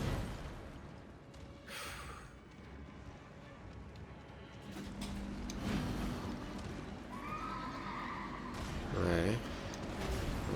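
Horse neighing in the video game Elden Ring, a short whinny near the end among hoofbeats, combat noise and other game sounds, with people talking at times.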